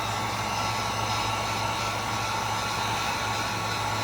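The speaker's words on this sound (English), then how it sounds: "Alright, now, heat gun over here." A heat gun blows steadily while shrinking heat-shrink tubing on a trail camera battery box build, a constant whooshing fan-and-air roar with no talking.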